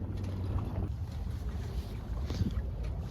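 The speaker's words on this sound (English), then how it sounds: "wind is kind of like blowing and then slowing down" Wind gusts across a 24-foot San Juan sailboat out near Elliott Bay, a steady low buffeting roar with microphone wind noise, swelling and easing slightly, close and continuous with no voices.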